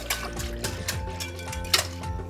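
Faint trickling and pouring of water into yogurt to make buttermilk, a soft steady water sound close by with small splashes.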